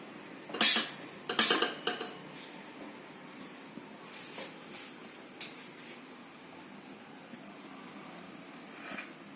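A knife slices through a tray of steamed, cooled colocasia leaf masvadi rolls, giving a few sharp cutting clicks and taps near the start, then sparser, fainter cuts against a quiet room with no talking.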